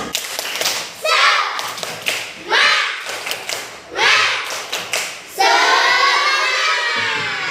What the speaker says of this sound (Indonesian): Sekali lagi lah. Yuk, tepuk semangat.